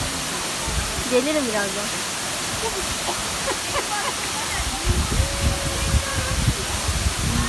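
Water pouring steadily at Sudüşen waterfall in Yalova, a broad constant rush close by, with people talking and calling out over it.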